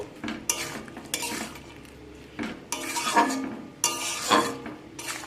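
A spatula clanks and scrapes against a metal pan while a small-fish curry with green tomatoes and coriander leaves is mixed, loud repeated clattering strokes over a faint sizzle.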